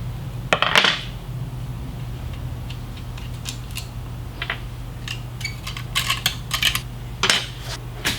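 Bar plate being removed from a Husqvarna 55 chainsaw, scattered close metallic clicks and taps of tools and loose parts against a steady low background hum.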